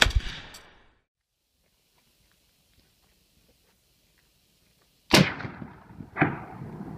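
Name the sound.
KPV heavy machine gun firing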